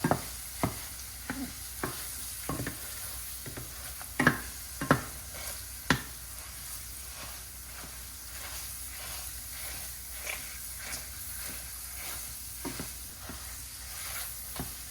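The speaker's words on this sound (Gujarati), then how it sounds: "આપણે એને હવે 5 થી 7 મિનિટ હલાઈ કરવાનું, કે જેથી કરીને આપણું ખજૂર એકદમ ચડી જાય" Chopped dates being stirred in a pan for khajur paak, sugar-free energy bars, producing a soft continuous sizzle broken by a series of sharp spoon scrapes and taps, louder at first and then sparser, with no talking.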